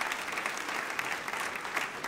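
A church congregation of several hundred people applauds, dense steady clapping filling the hall from start to finish.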